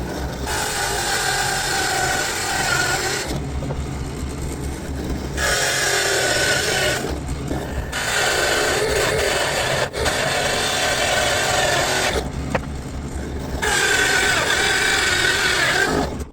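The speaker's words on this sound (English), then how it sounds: "So I got 1 1/4 hole saw." A 1 1/4 inch hole saw drills through wood dowel stock for a homemade hook and ring toss game, a loud, steady grinding whir in several long bursts separated by short pauses, with no talking.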